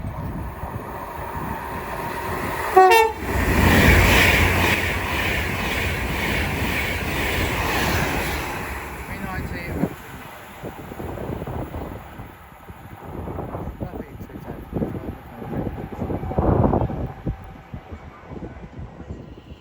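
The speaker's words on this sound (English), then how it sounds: "Soon to pass through now will be a Vanta West Coast 390 Pendolino going from London Euston to Manchester Piccadilly." An Avanti West Coast Class 390 Pendolino electric train runs through Watford Junction on the West Coast Main Line, a loud rushing roar that builds early, holds steady, then fades into lighter rumbling and wind buffeting.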